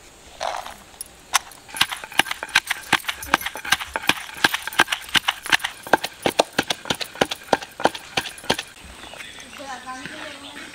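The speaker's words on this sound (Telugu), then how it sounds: "పచ్చిమిర్చి దంచుతున్నా." Green chillies are pounded in a Telangana village kitchen with a long run of steady, rhythmic thuds, close and sharp, with faint voices in the background.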